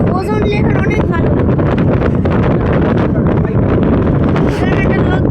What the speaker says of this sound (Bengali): কিন্তু অনেক হাওয়া দিচ্ছে এখানে